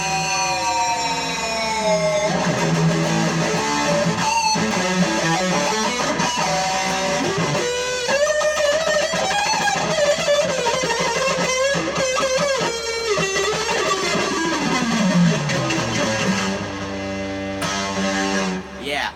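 Electric guitar notes swooping sharply down and back up in pitch, heavily effected through a Digitech Element XP multi-effects unit and sustained, with dramatic dive-bomb bends that fall low before cutting off.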